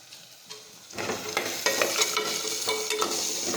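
Cumin seeds hit hot oil for a Gujarati potato curry and sizzle loudly as they are stirred, a steady frying crackle with scraping strokes that starts after a quiet second and keeps going with no talk.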